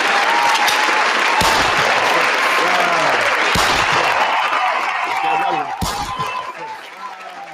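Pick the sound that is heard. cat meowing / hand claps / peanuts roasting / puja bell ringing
hand claps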